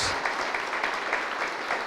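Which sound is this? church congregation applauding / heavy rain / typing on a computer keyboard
church congregation applauding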